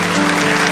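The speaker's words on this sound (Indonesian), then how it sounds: "kasih tepuk tangan untuk Roh Kudus." Church congregation clapping together in a steady, dense burst of applause, loud and close, with no voices over it.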